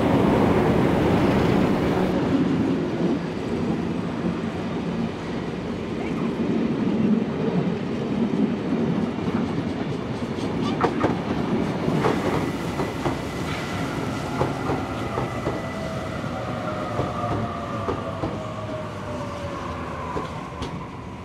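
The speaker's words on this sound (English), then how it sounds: "The two vintage diesel locomotives, 4490 and 4520," Two vintage diesel locomotives, numbers 4490 and 4520, haul a passenger train in New South Wales, their engines roaring loudly close by as wagons rumble past with clickety-clack wheel noise and a faint squeal later.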